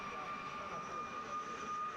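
De Havilland Vampire jet at an air show at Malmi, its engine giving a steady, continuous whine with a high tonal line over broad roar, moderately loud and sustained throughout.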